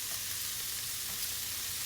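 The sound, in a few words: frying vegetables for yakisoba noodles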